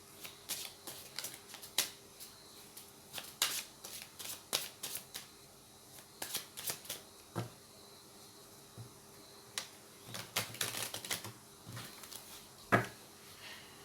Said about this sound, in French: vous n'avez pas à entendre un tas de bruit, le bruit que font les cartes